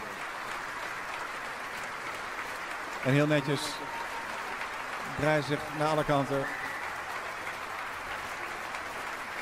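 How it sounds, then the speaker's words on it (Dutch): Near-sellout concert audience at Tivoli Vredenburg applauding a piano duo: a continuous, even roar of distant clapping throughout, with someone talking over it in two short stretches. "Om het applaus in ontvangst te nemen"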